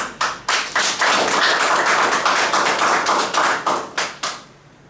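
An audience at a football association press meeting in Kumasi claps for the chairman, sharp hand claps in irregular bursts and clusters that keep up for several seconds, then thin out and fade.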